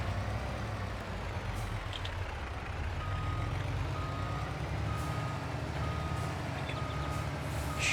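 A truck in Farming Simulator 22 backs into a bunker, its steady reversing beeper pulsing at even intervals over a constant low engine drone, with no talk.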